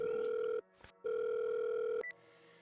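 A telephone dial tone drones steadily, breaks off briefly, then resumes before a short keypad beep cuts it off, leaving quiet line noise.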